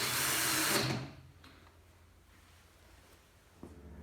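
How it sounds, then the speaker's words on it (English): A power driver briefly runs loud as screws are driven in to secure the lid on a Bosch Maxx Classixx washing machine, then stops, leaving a quiet room with a faint click near the end. "Secure the lid with the two screws."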